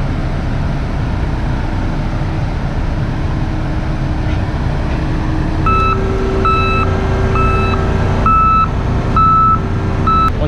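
A combine harvester works its way along a road during the sorghum harvest. A steady low engine rumble runs throughout, and midway a loud, regular reversing beep begins and repeats to the end.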